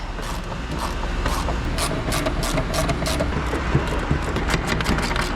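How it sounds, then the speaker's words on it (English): Socket wrench work on an old Copeland scroll compressor with a 1/2 inch socket, giving steady mechanical clicking and ratcheting with faint creaks, close and continuous without talk. "Now I'm gonna start unbolting this old compressor. 1/2 inch socket."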